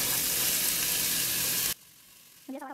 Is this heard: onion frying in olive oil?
yes